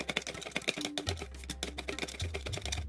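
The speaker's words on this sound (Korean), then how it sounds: "먼저 마늘 2쪽을 다져 보겠습니다" A knife mincing two garlic cloves on a cutting board, quick uneven tapping chops close by, rapid and crisp, with no talking.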